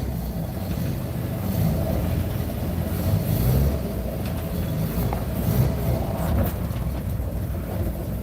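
Classic Mini Leyland S car engine running steadily as the car creeps forward on a first drive, a continuous low rumble with wind buffeting the microphone and no talk over it.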